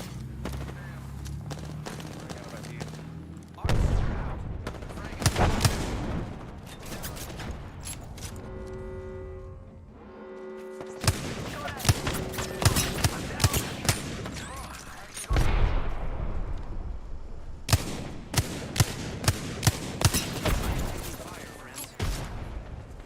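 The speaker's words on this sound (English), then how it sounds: "Shots fired and they're hitting me." Rapid bursts of video game gunfire, a fusillade of loud sharp shots in clustered volleys with brief lulls between, mixed with a player talking over the action.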